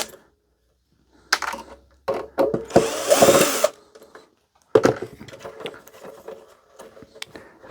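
A power screwdriver with a Phillips bit backs out screws to free a clamp from charity-shop e-waste, giving short whirring bursts with one longer run in the middle and faint clicks and handling knocks between.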